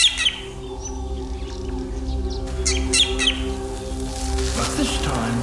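A drongo gives a false alarm call, chirping bird notes breaking out in short bursts over a continuous low rumble and other ambient wildlife sound.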